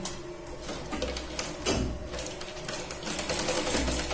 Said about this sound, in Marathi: दुसरी जी प्लेट्स आहे तिच्यावरती आपण शिलाई लावून घेऊया